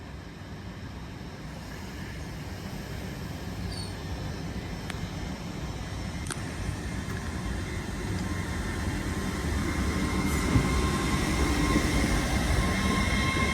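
A Class 805 train departs Lichfield Trent Valley station, a steady rumbling roar of rolling stock that slowly grows louder, with faint whines and brief squeals over the continuous noise.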